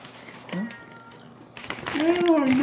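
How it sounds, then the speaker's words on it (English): A cat meows twice, first a short cry and then a longer, louder drawn-out one near the end, close by, with a person's voice mixed in. "Stupid cat. I hate it when they're doing it."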